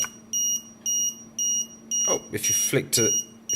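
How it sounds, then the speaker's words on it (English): A Matek 5-in-1 PDB alarm buzzer sounds a steady series of short, sharp electronic beeps at an even pace, with a voice talking over the last few. "so now the alarm's on, but it's not flashing"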